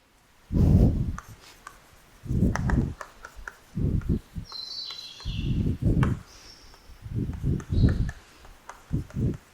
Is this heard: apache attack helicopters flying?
no